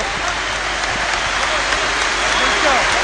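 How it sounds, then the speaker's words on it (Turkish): Basketball crowd applauding Damir Mırsic's farewell at an Efes Pilsen versus Fenerbahçe game, a dense steady wash of clapping and crowd noise throughout, with a commentator's voice faintly underneath. "İşte şimdi Mırsic alkışlarla veda ediyor"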